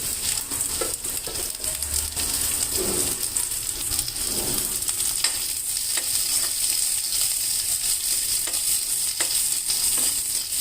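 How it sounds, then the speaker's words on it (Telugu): Garlic and onions frying in a pan for a raw banana curry, a continuous even sizzle with occasional stirring scrapes, moderately close. "ఉల్లిపాయల కన్నా ముందే ఎల్లిపాయ వేయాలి, వేస్తేనే మంచి వాసన వస్తుంది, మంచిగా ఏగుతుంది."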